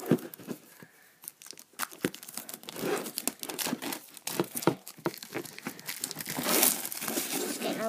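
Paper crinkling, crumpling and tearing as a Moshi Monsters Gold Collection card pack is opened up close, a steady run of sharp rustles and rips with no talk.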